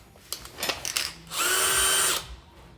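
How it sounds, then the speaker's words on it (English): A few short taps and clicks, then a power drill running a 3/8 tap at speed 1 whirs at a steady pitch for about a second before stopping. "Stick it in the drill."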